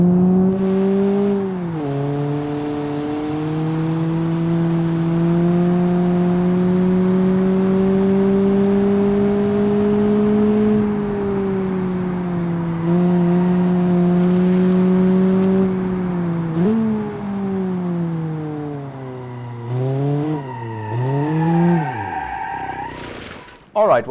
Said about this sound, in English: what we have here is basically a Subaru Wrx Sti